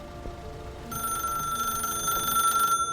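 A telephone rings in an indie video game, a steady electronic trill starting about a second in and continuing for nearly two seconds over faint background tones.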